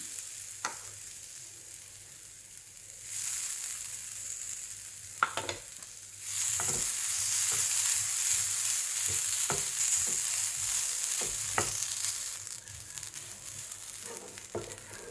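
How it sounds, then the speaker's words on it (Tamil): Coconut roasting in a pan, giving a steady close sizzle that swells louder partway through, with occasional scrapes and knocks from stirring. "இதே பேனில் நான் இப்போ தேங்காயை வறுத்து எடுக்கிறேன்."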